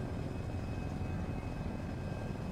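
A helicopter flies in the military video game Arma 3 with a steady, droning rotor and engine roar that stays at an even level throughout, with no talk.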